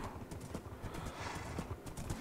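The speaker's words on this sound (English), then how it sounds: "Horse travel." A horse's hooves clip-clop in a quick, steady rhythm in Minecraft, faint and continuous with no talk over it.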